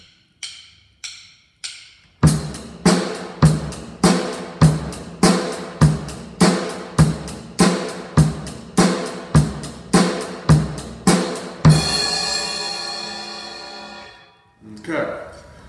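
A drummer plays a basic rock beat: a few lone hits, then a steady eighth-note hi-hat with bass drum and snare on two and four. It ends on a ringing cymbal crash, and a brief voice follows.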